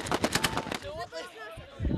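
Gunfire and rocket fire in desert combat against an armoured suicide vehicle in Syria, heard as a loud burst of sharp blasts, then a lull with distant shouting voices, and another heavy impact at the end.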